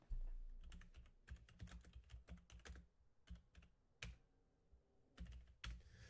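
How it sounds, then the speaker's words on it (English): Quick bursts of keystrokes on a computer keyboard, clustered into irregular runs with short pauses, fairly quiet and close, no voices. "we're going to type it in"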